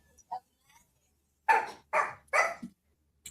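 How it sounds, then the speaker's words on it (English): A small Yorkshire terrier gives three quick, high, squeaky yaps close by, preceded by a few faint sounds and quiet moments. "That dog sounds like a squeeze toy."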